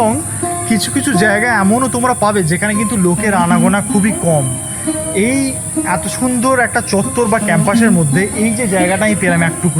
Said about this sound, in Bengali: এই এক টুকরো সবুজের মাঝে এই যে ঝিঝি ফোকার ডাক